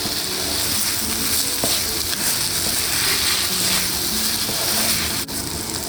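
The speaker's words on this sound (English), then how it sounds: "this will increase the speed at which the onions fry and get ready." Onions frying in oil in a kadai make a loud, continuous, close-up sizzle and bubbling hiss with gentle stirring, almost no talk.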